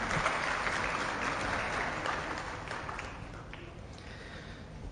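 An audience claps for event organizers, a broad wash of many hands applauding steadily, loud at first and then gradually tapering off toward the end.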